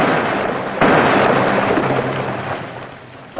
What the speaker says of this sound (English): First torpedo broached and exploded prematurely.